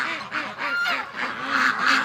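Winter ducks shut in their pen honk and quack close by on a mild, rainy day, with several nasal calls in quick succession, some overlapping, and no talking.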